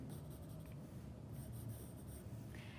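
Pen or pencil scratching across paper while sketching a graduation cap, a close, continuous soft rasp of short strokes with faint squeaks, quiet and alone.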